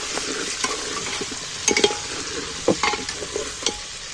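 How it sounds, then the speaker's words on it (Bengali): Potatoes seasoned with salt and turmeric frying in oil, a steady close sizzle broken by several sharp scraping knocks as a spoon stirs them in the pan. "এইবার আমি আলুটাকে একটু নাড়াচাড়া করে এই তেলের মধ্যে ভেজে নেব।"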